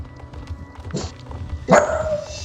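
A dog barks in the Roblox video game, one sharp, close, loud bark about two-thirds of the way through, preceded by softer clicks and game noises, with no speech.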